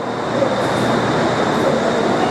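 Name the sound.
Bangkok metro train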